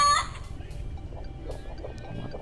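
A chicken in the Pixels online game gives a short burst of clucking, fairly close and moderately loud, trailing into quieter background sounds.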